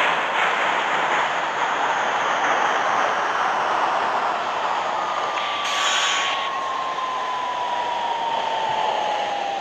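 An R46 subway train on the E line along the 8th Ave Local, simulated in the Hmmsim video game, rumbles with a broad steady roar, while a faint tone slowly glides down midway through.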